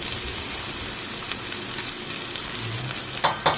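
Steady, close sizzling of shallots frying in hot oil in a clay pot, a constant crackling hiss with a couple of brief stirring clinks near the end.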